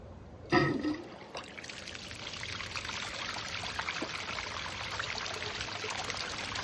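Water pours and splashes steadily through a mini highbanker gold-prospecting rig set up to recirculate water at home, a continuous close trickling stream after a sharp knock at the start.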